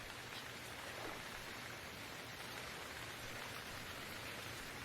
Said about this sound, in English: And it's raining, which means I'm not leaving anytime soon